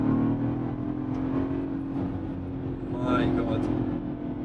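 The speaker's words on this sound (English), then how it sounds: "Listen now, the downshift." A 525 hp Land Rover Defender V8 SUV heard from inside the cabin, a steady engine drone with a brief rise and throaty blip around a downshift, fairly loud and continuous.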